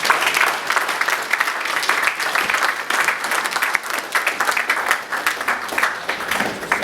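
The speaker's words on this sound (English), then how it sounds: "Mr. Tony Fulani, let's give him a big applause." Audience applause at a Nigerian diaspora investment summit in London, a loud, dense wash of many hands clapping that runs steadily throughout without voices on top.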